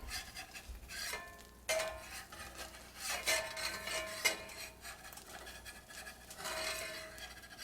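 A spatula scrapes and pushes sandwich filling around a pan, making quiet, intermittent rubbing and scraping strokes with brief pauses between them. There is a faint sizzle underneath and no talking.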